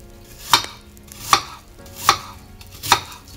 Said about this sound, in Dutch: En dan ga ik blokjes snijden van de appel.